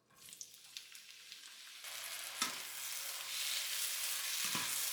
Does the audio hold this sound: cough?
no